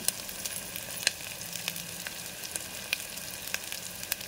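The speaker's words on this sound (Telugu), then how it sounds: "పచ్చిమిర్చి, ఇవి బాగా వేగాలి." Curry leaves and green chillies fry in hot oil for a ridge gourd mutton curry. The close, steady sizzle carries small popping crackles and stirring.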